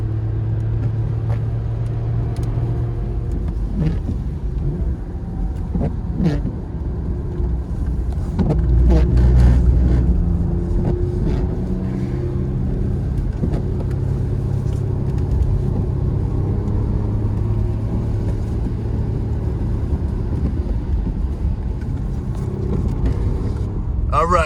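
A 2017 Porsche Macan S drives on a road, a continuous low engine rumble with road noise and a slight swell in level midway, heard from inside the cabin.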